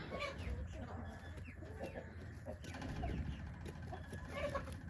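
Dominique chickens cluck and murmur steadily over a busy outdoor background, with faint rooster-like calls mixed in and low chatter nearby.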